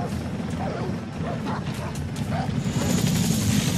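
In the video game Far Cry 3, a dog barks and yips amid dense, rumbling game noise. The barks are brief and partly buried in the steady roar.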